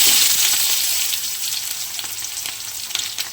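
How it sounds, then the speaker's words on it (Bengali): Onion sizzles in hot oil in a wok, a loud hiss right after it hits the pan that settles into a steady crackling fry with small pops. "আর পেঁয়াজটা দিয়ে দিই তেলের মধ্যে।"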